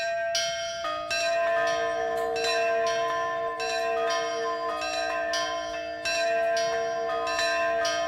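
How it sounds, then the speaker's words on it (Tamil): A large temple bell rings repeatedly in slow, resonant strokes, each toll sustaining a rich humming tone that overlaps the next, with no voices. "பாத்தியாமா, கோயில் மணி கூட அடிக்குது."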